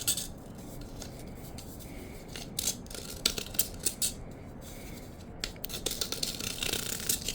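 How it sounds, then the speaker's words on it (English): A handheld deburring tool scrapes and cuts along the edges of a fixture so a light bulb will fit, giving a string of faint, close, irregular scratchy clicks and shaves, with no talking. "Just cutting, making sure that the light bulb is going to fit."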